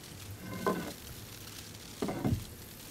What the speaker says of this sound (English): You can just hear his wings and how powerful he is compared to the meadowhawks.